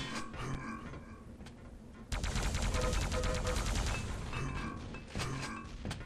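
Fast, chaotic action from a Quake match with grenade launcher fire: loud bursts, thuds and rapid mechanical rattling in dense gunfire-like clusters, including a sustained heavy barrage in the middle, with no speech.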